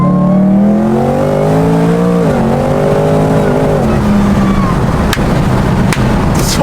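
A BMW M3 engine revs hard while driving, its loud harmonic drone climbing in pitch, dipping at a shift, then rising again, with road roar underneath and a couple of brief clicks near the end.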